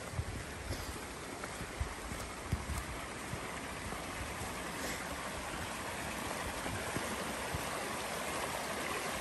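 Tom's Run, a forest stream beside an Appalachian Trail shelter in Michaux State Forest, Pennsylvania, flows in a steady, soft rushing burble close by, continuous and alone with no voices.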